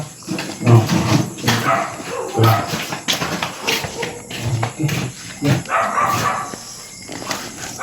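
Dogs bark repeatedly over a noisy, busy background, the barks fairly close and loud, coming in uneven bursts.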